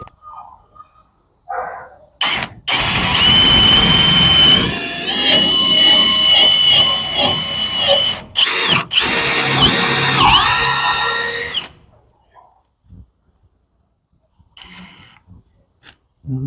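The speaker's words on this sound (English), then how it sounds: "so we need our drill, and I like to use a 1/2-inch pilot for these lags here, for these lag hinges" A power drill boring 1/2-inch pilot holes for lag hinges while hanging a farm gate, two loud sustained whining bursts with a brief stop between them, then quiet handling noises.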